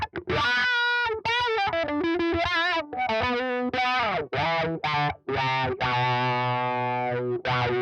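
Electric guitar played through a Donner Vowel Mini wah pedal in the wah position, loud and distorted, with sweeping vowel-like tonal shifts over a run of sustained and picked phrases, no talking.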